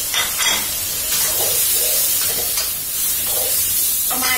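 Crispy squid stir-fried with fresh chili and spring onions over high heat sizzles loudly in the pan, with repeated scraping stirs and bursts of spattering hiss and no talking.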